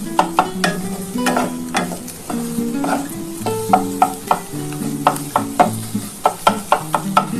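Snake gourd and egg frying in a pan, stirred with repeated sharp utensil scrapes and clinks over a steady background sizzle, close and fairly loud throughout.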